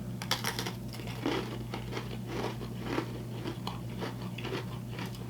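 Crisp, repeated bites and crunches into Apple Cider Donut Oreos with golden cookie shells, close to the mic, followed by chewing at a steady rhythm.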